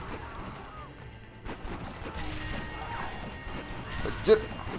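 A single sharp explosion bursts out near the end of a Red Dead Redemption gunfight, standing above a steady bed of crackling gunshots and game noise.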